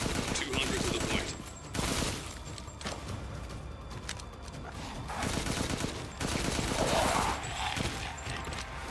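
Gunfire in the horror shooter Resident Evil Village cracks out in repeated bursts with brief gaps, moderately loud against game ambience, while a voice speaks intermittently in the background.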